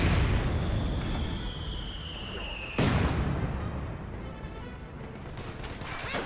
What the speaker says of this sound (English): Ooh, mortar hits coming in.